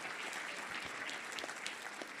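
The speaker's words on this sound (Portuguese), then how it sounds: "Cadê aquela salva de palmas para agradecermos?" Crowd applause for President Lula at a meeting with evangelicals, a continuous rattle of many hands clapping, fairly faint and distant, with a few sharper individual claps standing out.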